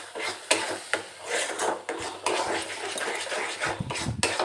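A spoon stirs a thick Kashmiri chilli powder masala in a pan, giving repeated scraping and knocking strokes in an uneven rhythm, close and moderately loud.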